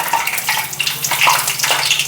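Water hits hot cooking oil while frying cluster beans in a home kitchen, giving a loud, continuous hissing sizzle with crackling spits, close and steady with no talk.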